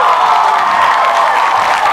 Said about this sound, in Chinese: 各位观众，掌声欢迎国际美人周明轩